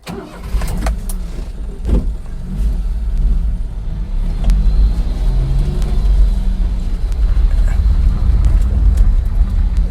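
A 1987 Daihatsu 4x4 Japanese mini truck, street legal, starts up and pulls off on a road test: a small engine turns over, then gives a steady mid-pitched hum that grows slightly louder, heard from inside the cab.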